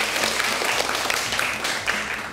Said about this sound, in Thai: ปรบมือให้เพื่อนหน่อยลูก